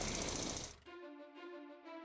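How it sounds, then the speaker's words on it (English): A drill attack from the Battle Nations video game starts as a dense, loud mechanical burst, then settles into a buzzing, pulsing drone. "Repeatedly use this thing's drill on this thing."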